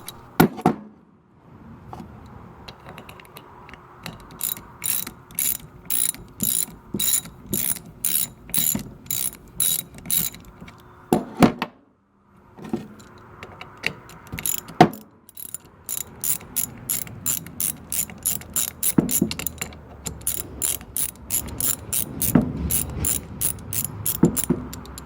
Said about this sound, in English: Using a 10mm socket, I removed the bolts holding the blower together.